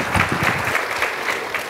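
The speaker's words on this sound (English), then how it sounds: "please join me with a round of applause" Audience applause at a keynote address, a full, continuous crowd of hands clapping at close range, sustained evenly for the brief span.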